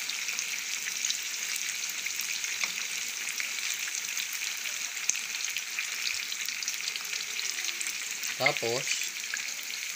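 Tofu sisig sizzles and fries steadily in a pan, a continuous crackling hiss throughout, with a brief spoken word near the end.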